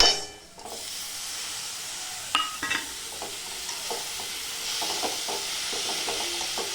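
Chopped tomatoes for a simple tomato chutney hit a hot pan with a steady sizzle, followed by repeated spoon stirs and scrapes over continuous frying hiss, close and clear with no talk.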